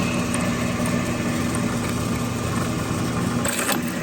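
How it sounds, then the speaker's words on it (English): A drill press whirs steadily while drilling through a metal spoon, a loud close motor hum with a rough grinding edge and a brief sharp scrape near the end, with no voices. "now, over there to our friend the drill press"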